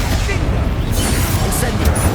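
The Bombarda blasting spell in Hogwarts Legacy sets off a dense, booming explosion, loud and rumbling throughout with crackling debris on top.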